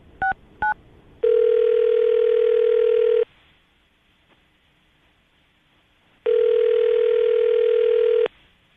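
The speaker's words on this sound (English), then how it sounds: "We're going to call her right now, see if we can get her on the phone" Telephone call placed from a morning radio show: two quick dialing beeps, then two long, steady ringback tones of about two seconds each, separated by a silent pause, loud and alone.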